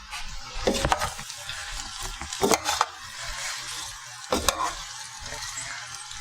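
Green beans almondine with bacon and almonds stirred in a pan, giving a soft steady sizzle with a few scraping clatters of the spoon against the pan, close and alone.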